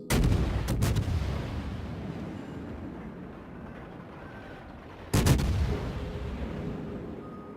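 FN2000 rifle fired in a played-back recording: a few sharp shots at the start, a decaying echo, then another burst of shots with a long fading tail, moderately loud.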